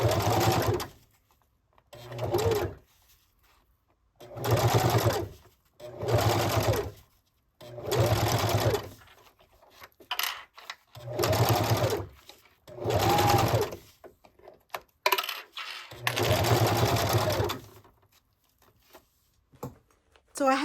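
A home sewing machine stitching fabric with a rolling foot, in repeated bursts of whirring about two seconds long separated by short pauses, loud and close.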